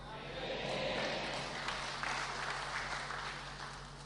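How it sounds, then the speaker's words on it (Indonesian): Audience applause fills a religious talk given by KH Nuril Arifin in a church in Tayu, Pati: a steady, dense clapping that holds at an even level for the whole stretch, with no voices standing out. "Tepuk tangan terus Pak Budi"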